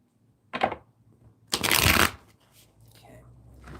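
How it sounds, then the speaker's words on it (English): Tarot cards are shuffled by hand in two brisk riffling bursts, close and crisp, separated by a short pause, followed by faint soft handling noise. "Okay, let's shuffle these some more here."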